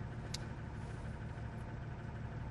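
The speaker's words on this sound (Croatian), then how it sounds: "kad čuješ taj motor" A Mercedes-Benz truck engine idles with a steady low rumble and faint mechanical vibration, continuous and moderately quiet, with a brief high click near the start.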